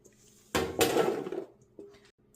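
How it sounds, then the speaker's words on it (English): Lemon-dressed beets tossed in a bowl and tipped onto metal cookie sheets: two close bursts of rattling, clattering pieces, then a single clink against the tray. "Give them a toss. And then we put them on the cookie sheets."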